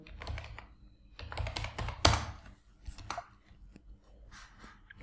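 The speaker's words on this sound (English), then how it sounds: "you have to write your password" Rapid clattering keystrokes on a computer keyboard as a password is typed during a Kali Linux setup on an M1 MacBook, close and crisp with one sharper key strike midway.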